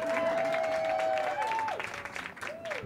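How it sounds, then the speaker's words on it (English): An audience claps at a live storytelling show in San Francisco, a faint, continuous patter of many hands with a few whistles riding over the applause. "you better keep clapping"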